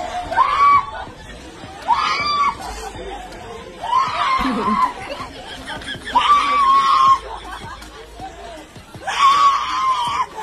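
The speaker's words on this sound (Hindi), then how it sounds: "दुल्हन बहुत यार चीख रही है चिल्ला रही है" A bride at a wedding farewell ceremony screams and wails in repeated loud bursts, each lasting about a second, with crowd chatter and noise in between.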